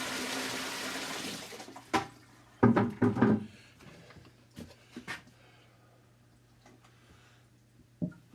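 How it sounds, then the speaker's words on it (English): Steaming hot water pours from a tap for cleaning Cat 60 cylinder heads, a brief rushing stream in the first couple of seconds, followed by scattered knocks and clatters of metal parts being handled. "More steaming hot water."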